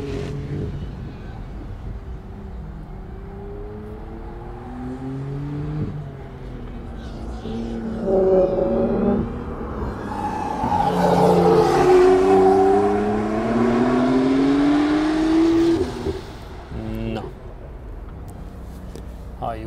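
A Porsche 911 GTS or Ferrari 488 GTB accelerates hard down a race track straight, its engine note rising steadily through the gears, loud and close under people talking in the cabin.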